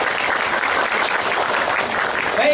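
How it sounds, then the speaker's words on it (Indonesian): Audience applause at a seminar: dense, steady clapping from a crowd, fairly close and even throughout the short stretch. "Oke, tepuk tangan dulu."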